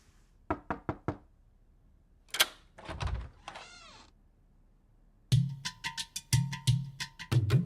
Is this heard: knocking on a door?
yes